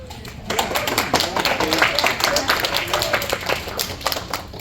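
An audience at a comedy show claps and applauds loudly and continuously, dense and close, with some voices mixed in.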